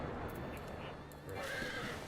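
A horse mount in Final Fantasy XIV gives a clear neigh over a busy game soundscape, accompanied by clip-clop hooves, brief and moderately loud.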